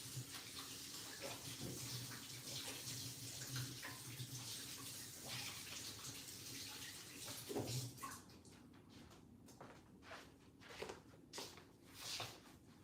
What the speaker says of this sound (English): Let me just wash my hands off.